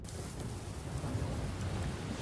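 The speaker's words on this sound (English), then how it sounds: "The rain is coming" Steady rain with low thunder rumbling in an anime episode, a dense even hiss over a deep continuous roll, fairly close and unbroken for a couple of seconds with no voices.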